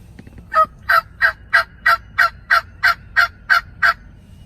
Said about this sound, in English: we just heard one gobble over here